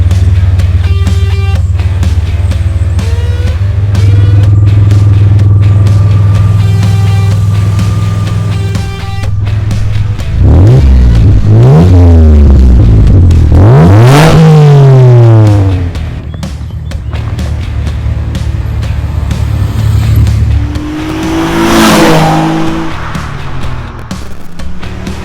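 A Ford Cougar with a 3-litre engine is driven hard, its loud engine note rising and falling through sweeping revs and gear changes, with a couple of sharp climbing pulls in the middle before easing off to a steady drone.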